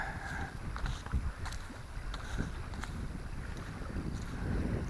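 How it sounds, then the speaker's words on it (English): Wind buffets the microphone on an autumn walk outdoors near water with ducks, a steady low rumble with gusty swells throughout, moderately loud and continuous. "It's a bit windy today"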